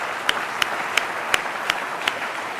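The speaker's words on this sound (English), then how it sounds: "May I request everyone to give a big round of applause to all our finalists today" Applause for the finalists at the EY Entrepreneur Of The Year India awards, heard as a hall-wide wash of clapping with six sharper, evenly spaced claps standing out close by, moderately loud.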